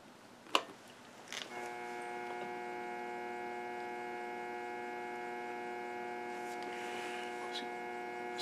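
A threading machine in a workshop runs with a steady tonal hum after starting up, preceded by a couple of sharp clicks, continuing evenly and fairly loud throughout.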